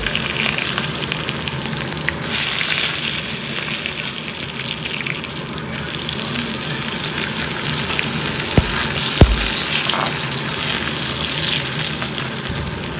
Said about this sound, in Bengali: খুব সুন্দর করে উচ্ছেটা একটু ভেজে নেব